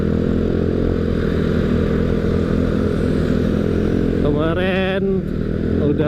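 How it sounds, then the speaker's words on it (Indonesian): A Yamaha scooter's engine drones steadily as it climbs a hill, with a brief rising rev and clatter near the end, a person talking over the ride. "kita tes nanjak di motor spesi kita ya"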